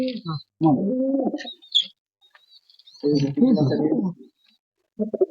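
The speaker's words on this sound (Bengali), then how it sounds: "বাচ্চা পায়রা" Baby Madras pigeons coo and chirp close by, soft thin calls mixed in with someone talking over them in short bursts.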